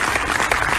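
Brief burst of audience applause at a national research summit session, a dense wash of clapping heard steadily for under a second with no talk over it.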